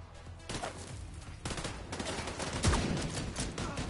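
Rapid bursts of gunfire from the shooter video game The Division 2, dense repeated shots in clusters across the moment, fairly loud and close with no talking.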